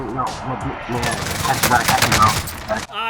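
Rapid gunfire in Warzone crackles in dense bursts for about two seconds, loud and close, with a player talking over the start before the shooting cuts off abruptly.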